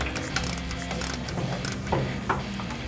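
Ratchet clicking as bolts are tightened on the trailing arm of a 1963 C2 split-window Corvette during a rear disc brake conversion, with repeated short bursts of close, crisp pawl clicks.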